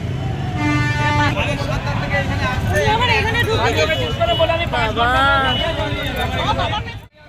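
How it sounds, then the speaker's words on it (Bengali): A New Year's evening traffic jam on a busy city street, with repeated car and bus horns honking over engine noise while people talk nearby. "এই জ্যামের কারণ কি এই জ্যামের পয়লা বৈশাখের জ্যাম"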